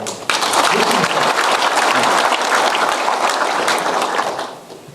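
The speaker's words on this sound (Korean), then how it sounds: "우리 황운하 울산청장을 위해서도 좀 박수 한번 칩시다" An audience at a police lecture on investigative-structure reform claps for Ulsan police chief Hwang Un-ha in a loud, dense burst that holds steady for several seconds before fading at the end.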